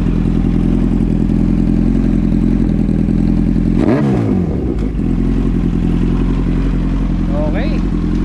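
A warm motorcycle engine idles steadily after carburetor cleaning, a loud, even low rumble throughout, with a brief sharp clatter partway through and a voice speaking over it.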